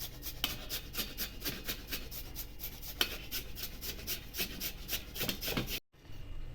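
A peeled potato rubbed against a hand grater in quick, rhythmic strokes, roughly a dozen close rasps in a row before stopping abruptly.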